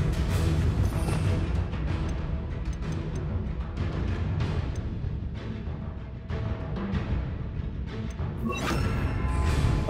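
A Confringo fire-blast spell strikes during a Hogwarts Legacy duel, sounding as loud crashing impacts over dense, busy combat noise that runs throughout, with no talk.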